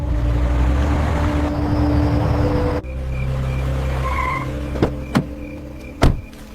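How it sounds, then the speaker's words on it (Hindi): A car swings through a turn and drives on, the engine rumbling steadily for a few seconds before the tone changes, followed by several sharp knocks and a thud near the end. "गाड़ी इधर मोड़ दो।"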